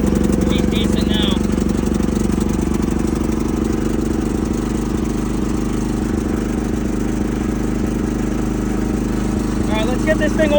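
A John Deere engine with a freshly tightened carburetor bowl runs steadily at close range, a constant low rumbling drone that holds for the whole stretch without revving up or dying.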